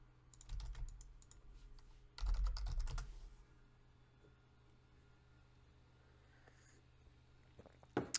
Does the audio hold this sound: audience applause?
no